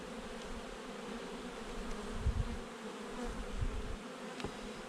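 Dense buzzing of many honeybees around a hive during a beekeeping inspection, a constant close hum with occasional louder low thumps and movements.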